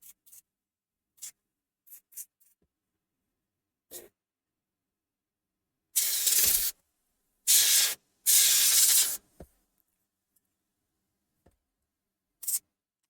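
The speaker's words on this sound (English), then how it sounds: "Excuse the noise. Just gotta clean my keyboard a little bit" Three short bursts of compressed-air hiss clean a computer keyboard, close and loud, the last burst the longest, with scattered light clicks and taps before and after in an otherwise quiet room.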